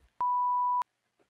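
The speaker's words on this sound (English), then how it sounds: "this is where you get the beep ready" A single censor bleep, a steady pure tone lasting about half a second, loud and isolated against near silence.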